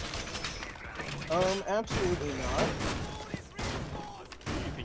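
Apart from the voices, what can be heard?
gunfire from a weapon in Rainbow Six Siege video game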